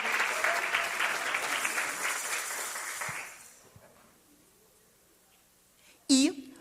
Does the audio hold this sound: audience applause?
yes